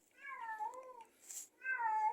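A cat meows twice indoors, a drawn-out wavering call followed after a short pause by a second strong meow, close and fairly loud with no talk over it.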